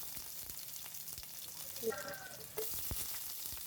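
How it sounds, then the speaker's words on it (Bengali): Red amaranth greens fry quietly in mustard oil with garlic, onion and whole red chillies, a faint sizzle with occasional stirring scrapes and a brief clink. "লাল শাক ভাজি করব সরিষার তেল দিয়ে।"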